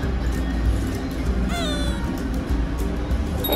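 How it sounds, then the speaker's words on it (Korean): A cat at an animal hospital gives a single short, rising-and-falling meow midway, close by, over a steady backdrop of room noise and handling sounds. "고양이 김빈이에요."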